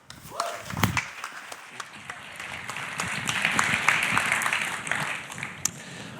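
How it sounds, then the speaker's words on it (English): A conference audience at a WebVisions talk gives a round of applause for a speaker, a sustained wash of clapping that builds and holds at moderate distance, with a few voices underneath. "Let's give him a big round of applause, Dan Saffer."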